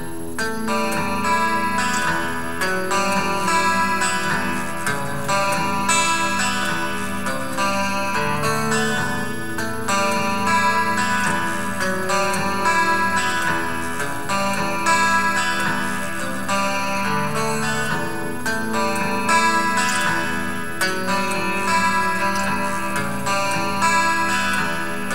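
Clean guitar strums a continuous chord phrase from the clean intro of a song over a steady backing, even and full throughout.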